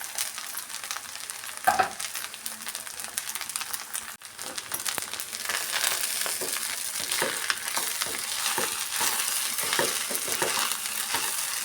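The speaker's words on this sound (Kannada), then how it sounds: "ಎಲ್ಲ ಸೇರಿಸಿ ಚೆನ್ನಾಗಿ ಮಿಕ್ಸ್ ಮಾಡೋಣ" Egg rice with pepper and coriander leaves being stirred and tossed in a hot pan, a steady soft sizzle with scraping and stirring scrapes running throughout, close and fairly even, with a sharper clink near the start.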